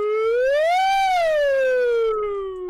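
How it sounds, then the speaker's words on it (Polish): A loud, close siren sweeps up and then slowly falls in one smooth wail over nearly three seconds, clear and sustained with no talk over it. "W sumie zajebista syrena."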